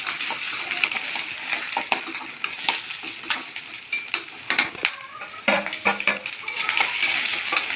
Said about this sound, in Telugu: పచ్చిమిర్చి కరివేపాకు వేసుకుని కొంచెం ఫ్రై చేసుకుందాం